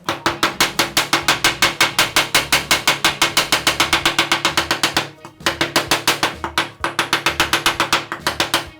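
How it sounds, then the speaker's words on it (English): Rapid, evenly spaced hammer taps ring out as fret wire is hammered into a vintage Fender guitar neck, dozens of bright metallic strikes with a brief pause midway before the hammering resumes. "we'll take this hammer"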